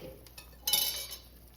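A lid comes off a pot of leftover turkey noodle soup with a single quiet metallic clink and a brief soft rattle, then fades into near-silence.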